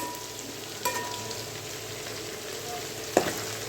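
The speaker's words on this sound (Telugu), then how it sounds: "ఆనియన్స్ చూడండి ఈ విధంగా వేగిన కదా ఇంకా కొద్దిగా వేగుతాం" Onions fry in a pan for chicken dum biryani, giving a soft, steady sizzle with a brief clatter near the start and a couple of sharp utensil knocks toward the end.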